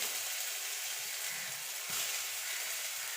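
Whole cumin, asafoetida and a ginger and green chilli paste sizzling in hot oil, a steady bright hiss with a small thump of something dropping into the pan partway through, and no voices.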